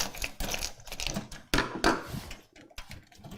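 A number 2 Phillips screwdriver unscrews two thumb screws on a custom PC case, giving close, loud clicking and scraping bursts that come in uneven clusters, with short pauses between turns.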